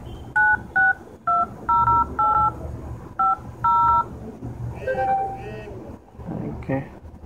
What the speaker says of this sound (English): I will try to make a phone call to my own number